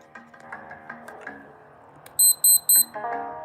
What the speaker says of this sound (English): The alarm don't work on this one, I don't think. But it does seem to have like a beep to it